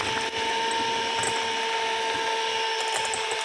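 An electric mixer beats dessert batter while flour is sifted in, a steady high-pitched motor whine running throughout at moderate loudness with faint tapping, no voices.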